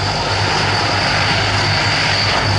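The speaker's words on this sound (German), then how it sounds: "Transport helicopters leaving the area at low level" Military transport helicopters departing at low level during a special forces demonstration at an air show, a steady loud rotor and engine roar filling the air without pause.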